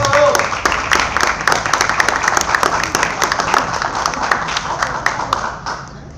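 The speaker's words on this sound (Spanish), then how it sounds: "¡Fuertes aplausos!" An audience applauds at a school presentation before a jury, parents and the public: dense, steady clapping fills the whole stretch, close and lively, then thins out and fades near the end.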